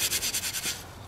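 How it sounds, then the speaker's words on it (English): A handheld steel scrubby rubs over rusty old cast iron in about seven quick, even back-and-forth strokes that are fairly faint and close, then trails off. "just using this steel scrubby"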